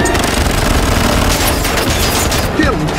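Sustained gunfire from a movie shootout in Charlie's Angels (2019), loud and dense, with rapid bursts and heavy booms running throughout, voices shouting underneath.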